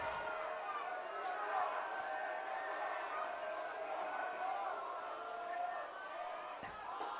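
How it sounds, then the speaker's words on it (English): A rowdy crowd at a high school baseball game between Bountiful and Lehi, heard as a steady distant roar of voices and chatter with a few faint cheers. "Crowd is rowdy tonight"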